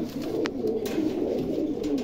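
A pair of golden Pakistani pigeons coo close by in a low, continuous murmuring burble, steady throughout the brief moment.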